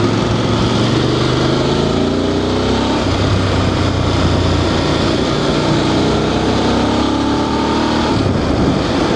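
A DSX 900 motorbike revs above 4,000 rpm on a mountain ride, its engine induction noise a loud, continuous droning roar with rising and falling pitch sweeps, masked by heavy wind rush.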